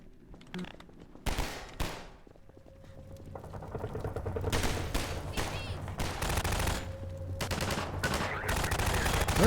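Gunfire in Half-Life 2, with scattered sharp shots at first and then dense rapid bursts of automatic fire rattling continuously and growing louder.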